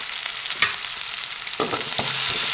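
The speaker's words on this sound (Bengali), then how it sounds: "এখানে এনেভাবে তেলতে অলপ ভাজি দিলোঁ" Oil sizzles in a pan as leafy greens are fried, with a steady hiss broken by several sharp clinks and scrapes of a utensil stirring close by.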